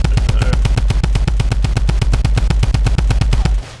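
Rapid automatic gunfire from a Fortnite match, shooting down a tree. One loud, close, continuous burst of evenly spaced shots runs for nearly four seconds, then stops abruptly.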